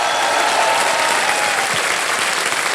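The studio audience of the quiz show Kaun Banega Crorepati, Season 16, breaks into loud, dense applause that holds steady and close throughout.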